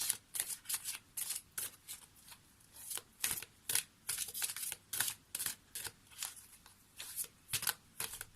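Tarot cards are shuffled and drawn from a kindness-themed deck, giving a close series of quick, crisp riffling flutters and snaps in an uneven rhythm, with no speech.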